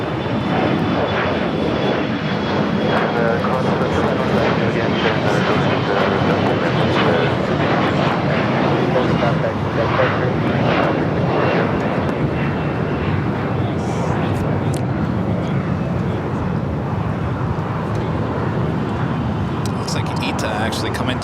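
An American Airlines jet on runway 25 right at Los Angeles airport gives off a loud, sustained turbine roar, with radio and voice chatter over it.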